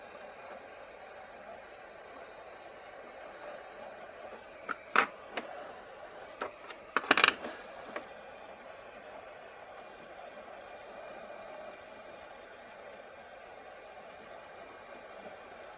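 Hot air from a rework station blows steadily over a dead mobile phone motherboard during repair, a continuous close hiss with a few brief clicks and knocks midway.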